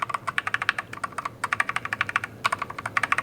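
Rapid typing on a DIERYA DK61E wired 60% mechanical gaming keyboard, crisp close-up clacky keystrokes in quick bursts separated by brief pauses.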